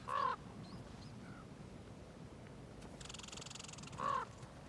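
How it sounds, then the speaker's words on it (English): Young ravens give a few harsh caws outdoors, two loud calls standing out near the start and end, with fainter distant calls and a steady buzzing background between them. "perhaps to call other young ravens"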